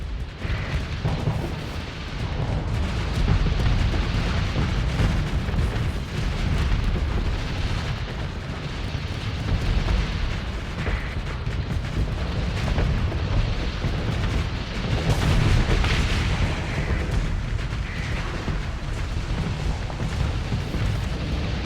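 Missile explosions in the space combat game Starsector pile into a dense, continuous barrage of booms and blasts, loud and unbroken for the whole stretch with no talking.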